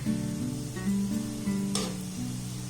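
Sweet balls made from milk powder and flour fry in oil with a steady sizzle while a spoon nudges them around, and background music plays throughout.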